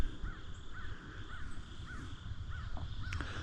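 Geese honking near the Tug River in West Virginia, a regular series of faint, distant calls repeating about every half second over a steady background hiss of water and outdoor ambience.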